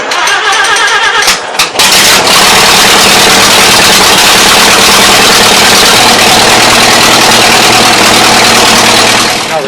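A 1940s Allis Chalmers Speed Patrol grader engine cranks briefly, then catches and runs loud and steady at close range, a dense, continuous rumble with a low, even idle throb and no talk.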